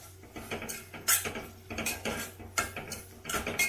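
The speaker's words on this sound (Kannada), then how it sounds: "ಈಗ ಅದು ಚೆನ್ನಾಗಿ ಮಿಕ್ಸ್ ಮಾಡ್ಕೊಳ್ರಿ" A spoon stirring tomato dal in a metal pan for dal fry: rhythmic scraping strokes and bright clinks of metal on metal, repeating every half second or so at a moderate, close level.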